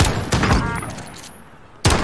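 Gunfire in the tactical shooter Ready Or Not during a 2v2 gunfight on the Docks map: several sharp, loud shots crack out in quick succession, then a pause and one more.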